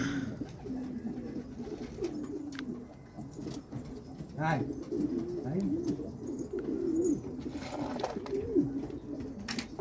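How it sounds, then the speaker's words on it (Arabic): Pigeons cooing repeatedly in a loose, bubbling rhythm, close by, with someone talking intermittently over and between the coos. "شبعها يا حمام"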